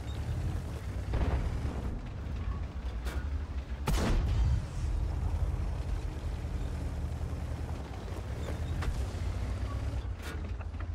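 Repeated heavy cannon shots from a T-54 medium tank in a tank video game, booming blasts at irregular intervals over a constant low engine rumble, one especially loud shot standing out midway.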